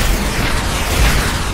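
Gunfire and explosions from the space strategy game AI War Fleet Command form a dense, continuous rumble of low booms and bursts, loud and unbroken throughout.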